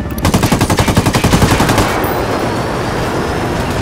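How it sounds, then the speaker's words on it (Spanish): Rapid bursts of automatic gunfire from the video game Ghost Recon Wildlands rattle in a steady rhythm for about two seconds, then give way to a loud continuous rumble. "Les disparo a estos cabrones."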